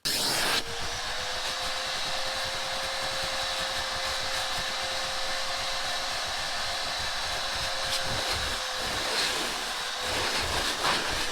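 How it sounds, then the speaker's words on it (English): A vacuum cleaner runs steadily and loudly over the carpeted floor of a 2019 Ford F250 truck interior, a continuous motor whine with rough suction noise and a few brief bumps near the end, with no talking. "Let's see what happens when we vacuum it."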